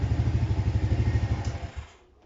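A Hytrack HY80S quad engine running close and loud with a rapid pulsing beat, then faltering and cutting out near the end as it stalls at full throttle.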